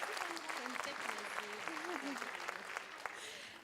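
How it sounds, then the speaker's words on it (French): Moderate, fairly distant applause at a musical fashion show, clapping for a sponsor with a voice talking over it. "une bonne main d'applaudissements pour Mme Sandra Couturier"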